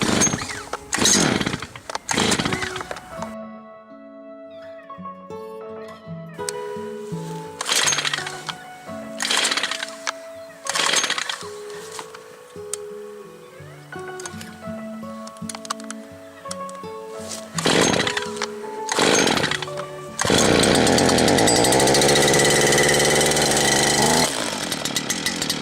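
A Stihl FS 260 professional brushcutter is pull-started with choke. Repeated sputtering pulls and brief revs come first, then the two-stroke engine catches around twenty seconds in and runs loud and steady close by.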